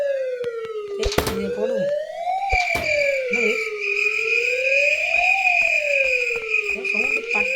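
Ambulance siren in the video game Dude Theft Wars, a loud wailing tone rising and falling steadily throughout, with a constant high whine and a few sharp clicks; brief speech occurs early.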